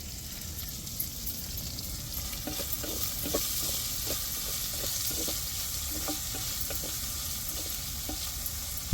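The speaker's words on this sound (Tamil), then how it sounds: "நம்ம வெங்காயம் வதங்குறதுக்கு கொஞ்சம் சால்ட்டு சேர்த்துக்கிடுவோம்" Onions with salt sautéing in a pan for a chicken dish, giving a steady hiss of frying with scattered stirring clicks and scrapes, close and continuous, with no talk.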